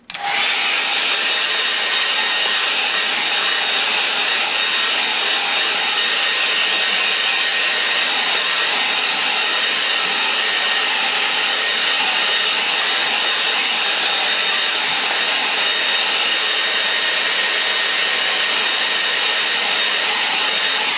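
A hair dryer blows steadily on a wet watercolor painting, a loud continuous whooshing roar with a high airy hiss that holds unbroken from start to finish, with no voices.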